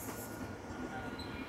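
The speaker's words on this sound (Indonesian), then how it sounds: "Ini biasanya kereta apinya kalau sudah lambat-lambat seperti ini tandanya dia mau berhenti" A train slowing down rolls steadily on rails in Aarau, Switzerland, with a continuous low rumble and faint metallic squeal, moderately close, no talking.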